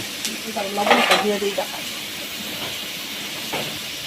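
Dried fish (shutki), boiled and then seasoned with salt and turmeric, fries in a pan with a steady sizzle and brief stirring scrapes, busiest near the start and fading to a soft hiss.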